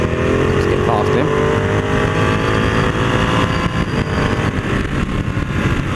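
A Ducati Panigale motorcycle engine roars on a race track, loud and close, its revs climbing then easing into a rough, throbbing drone over a continuous rumble.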